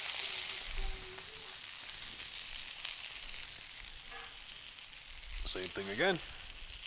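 Bacon and cheese smash burger sizzling on a hot 28-inch Blackstone griddle, a steady broadband crackle running throughout, with someone talking briefly over it near the end.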